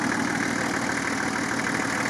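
A stock 2.8-litre engine idles steadily in an off-road vehicle at an off-road quest event, giving a continuous, close, even rumble with no speech over it.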